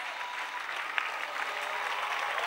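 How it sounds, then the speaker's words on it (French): A church congregation claps for Jesus Christ at a French-language service, a dense, steady patter of many hands held at even loudness throughout, with no talk over it. "Acclamation à Jésus-Christ. Clap for Jesus Christ."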